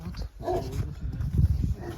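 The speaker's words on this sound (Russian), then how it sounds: "О, собака!" A large dog barks somewhere outdoors on a spring street, muffled gruff woofs under a steady background hum, fairly faint and distant.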